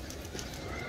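A pigeon coos once, close and clear, in a short burst with no voices.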